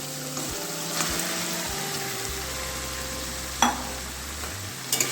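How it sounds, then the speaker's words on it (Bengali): Mutton sautés in masala in a pan, a steady close sizzle with faint scraping and stirring, a low hum underneath and a couple of sharp clinks near the end, no talk. "খুব ভালোভাবে মটনটাকেও কষাবো"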